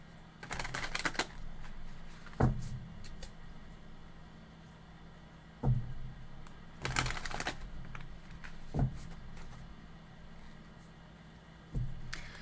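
Cards being shuffled in quick riffling bursts, with soft thumps and taps between them against a quiet, hissy background.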